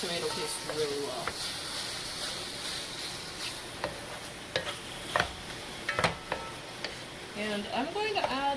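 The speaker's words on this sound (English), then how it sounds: "you want to mix the tomato paste really well" A spoon stirs tomato paste into a stew of legumes, vegetables and meat in a pot, giving steady scraping and soft bubbling sizzle, with a few sharper clinks against the pot.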